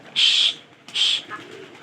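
A pigeon in a village gives two close, loud calls in quick succession, followed by a softer, brief call.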